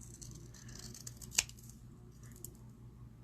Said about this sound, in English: And we're going to trim a little.